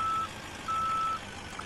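A utility truck reversing in Farming Simulator 17, its steady backup alarm sounding as regular beeps over a low engine hum.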